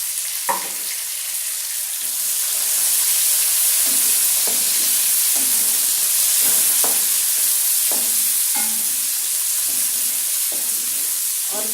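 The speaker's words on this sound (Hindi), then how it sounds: "और प्याज को ब्राउन होने तक पकाएंगे।" Onions fry in a pot of hot oil for aloo pulao, a steady close sizzle broken by repeated scraping stirs and clinks of a spoon, with no talking.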